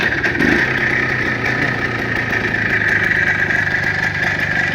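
A car engine idling steadily, a close, continuous mid-pitched drone with a faint whine on top and no revving, unbroken for a few seconds.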